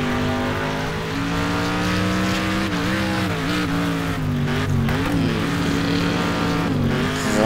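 Car engine in Next Car Game, a racing video game, droning steadily at high revs through a first-person drive, with rising and falling pitch as it corners and tires squealing through the turn.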